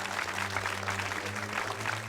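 Steady applause in the video game Amazing Grace with a low sustained musical drone underneath, continuous and even throughout.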